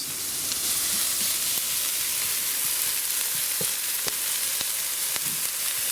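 Onions frying in olive oil in a pan, a steady close sizzle with occasional pops and stirring clicks, no talking.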